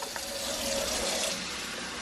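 About a cup and a half of water pours into an Instant Pot, a close steady splashing gush with a faint clink at the start, running continuously for two seconds without talk.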